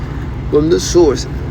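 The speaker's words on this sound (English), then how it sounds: "Pardon the noise in the background. I'm in my truck" A low, constant engine hum fills the cab of a truck headed home, steady and droning beneath a voice talking over it.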